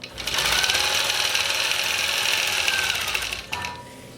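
Longarm quilting machine stitching through a quilt during background quilting and binding, a steady fast mechanical whir with rapid needle rhythm running continuously and close, dipping briefly near the end.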